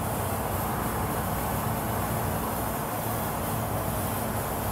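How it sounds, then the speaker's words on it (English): A stage fog machine in a dark haunted-house attraction hisses with a steady, broad rushing noise, loud and constant with no break and no voices. "Just turn the fog machine on."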